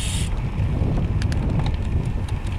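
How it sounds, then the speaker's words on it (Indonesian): Strong wind buffets the microphone while someone cycles along the beach road at Parangkusumo, making a loud, gusty rumble with a few faint higher rattles. "Dan anginnya sangat kencang sekali."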